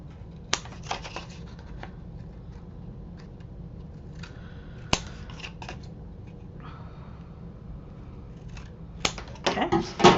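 Scissors snip through paper in a few short, crisp bursts while cutting a corner on a paper craft folio, set against quiet room hiss and a low background hum.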